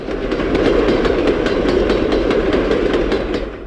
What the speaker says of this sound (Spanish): cambiaron del tren de vapor al tren diésel